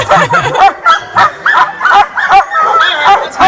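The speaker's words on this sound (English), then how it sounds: "There's dogs behind us. Dogs in front. They're all barking." Sled dogs at an Alaskan dog mushing camp near Juneau bark and yip excitedly in rapid, overlapping bursts, close and loud, with several dogs calling at once.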